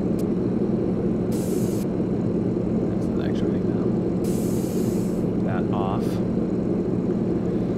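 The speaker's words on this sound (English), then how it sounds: "if you put down the flaps, it's like psss, shh" Flaps lowering on a Yak-18T in X-Plane 11 give a sustained pneumatic hiss, with brief bright bursts of air over a steady engine drone inside the cockpit.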